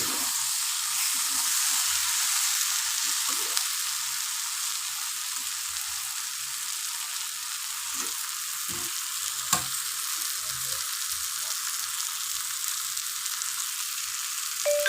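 Food fries in a pan with a continuous, even sizzle and hiss close by for the whole stretch, with occasional faint taps and clinks from stirring and no talking.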